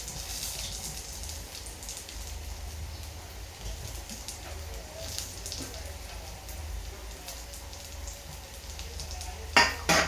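Garlic spluttering in a hot pan for a Maharashtrian brinjal dish, a steady fine crackle and hiss with a louder burst of pops near the end, no talking.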